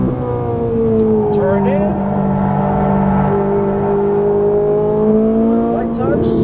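A Ferrari 458 Italia V8 screams on a racetrack, rising and falling through gear changes with a downshift blip, loud and close inside the cabin while a man gives driving instructions over it.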